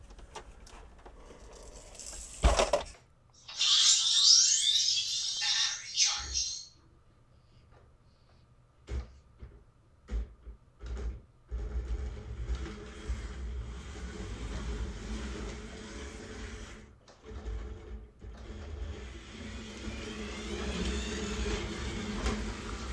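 A loosely assembled 3D printed droid drives around on its motors, giving a low rumbling whir with intermittent bursts and clicks across the clip, preceded by a brief loud high hiss.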